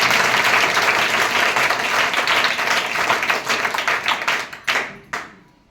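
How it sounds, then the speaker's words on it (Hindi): A crowd applauds loudly and steadily, then the clapping thins out to a few scattered claps before fading away. "एक बार तालियां बजा दो, आवाज़ आ जाएगी। तालियां बजाओ।"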